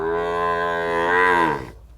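A single loud, close cow moo at a cattle and buffalo market in Wang Prachop, Tak, one sustained low call lasting over a second before fading out, with no talk.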